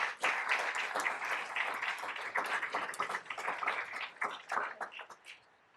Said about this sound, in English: please give a big round of applause for Vice Mayor Adams, Councilmember Chin, and Councilmember Hodge